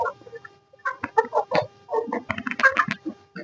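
A backyard desi hen clucks in short, close bursts, several in quick succession, with no talking over them.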